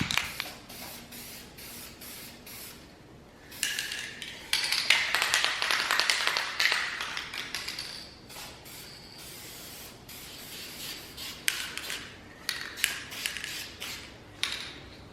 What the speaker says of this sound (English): We're going to start by hitting all the parts with this adhesion promoter.